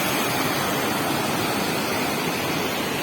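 Foaming water pours steadily at Bikkanapalli waterfall, a dense, loud, unbroken rushing roar heard close by with no other sounds.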